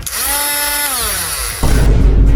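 A small electric motor on a homemade electric Beyblade whines at a high pitch that slides downward as it slows, then gives way to a louder rough rattling buzz near the end.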